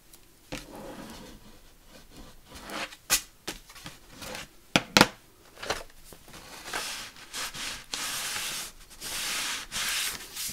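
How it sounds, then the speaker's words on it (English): Glued paper in a handmade junk journal is burnished down by hand, giving repeated close dry rubbing and scraping strokes with a few sharper taps, growing into steadier brushing friction toward the end. "And you can open it up and burnish it down."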